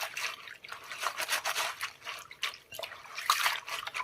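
Spinach being swished and rubbed by hand in a big bowl of salted water, giving soft, irregular splashing and dripping sounds, close and fairly quiet, with no talking.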